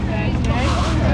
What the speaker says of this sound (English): Porsche sound.